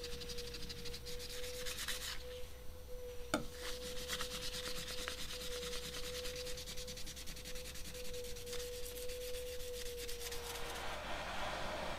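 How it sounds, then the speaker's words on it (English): Sandpaper rubs back and forth over a steel knife blade being cleaned up before heat treating, a steady continuous scratchy sanding close up, with a sharp tap partway through and the rubbing easing near the end. "I just used some sandpaper to clean up the blade before heat treating"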